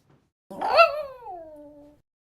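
A dog named Lulu gives a single drawn-out howl, starting with a rough burst and then sliding down into a clear, falling tone that fades out after about a second and a half, close by and alone.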